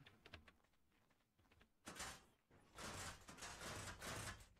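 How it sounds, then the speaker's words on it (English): Doors in ARK Survival Evolved sliding open and shut, several loud grinding bursts in sequence after a few quieter clicks and taps. "These doors are very loud."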